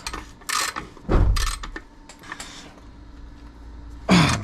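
Bolt being tightened on a Jeep Cherokee XJ, with short ratcheting bursts and metallic clicks spread across a few seconds and a louder burst at the end. No one speaks.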